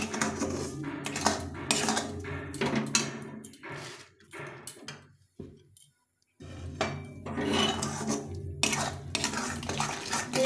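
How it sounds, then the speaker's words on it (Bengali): Semolina being stirred in a pan with sugar syrup for barfi, repeated close metal scraping and clinking of a spoon against the pan, pausing briefly near the middle before resuming. "নেড়ে নেড়ে সুজিটাকে রান্না করতে হবে"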